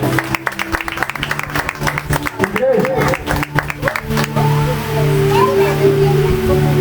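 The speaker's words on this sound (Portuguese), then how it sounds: "Pode bater uma salva de palmas para Jesus." A church congregation at a prayer and fasting service claps, with sharp, rhythmic hand claps in a steady beat. A voice and sustained tones run over the clapping, and the claps thin out as the sound settles into a held tone.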